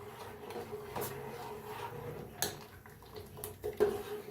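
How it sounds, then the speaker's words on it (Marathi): A spoon stirs custard milk cooking in a pan, giving soft scrapes and a few light metallic clinks against the pan over a low, steady background hum. "असं चमच्यानं हलवतच शिज बघा म्हणजे नाहीतर खाली सगळं चिटकतंय"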